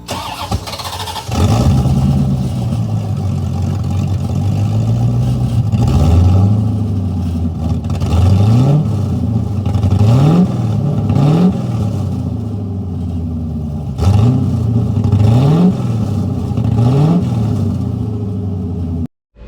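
A car engine running with no exhaust system fitted starts up, then idles raw and loud up close, broken by a series of repeated sharp revs rising and falling before cutting off.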